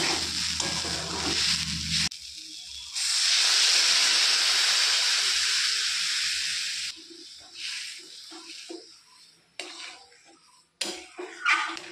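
Hot water poured into a pan of hot Bengali lentil and banana-stem curry sets off a loud, steady hiss of steam that lasts several seconds, then fades into softer scattered bubbling and clatter.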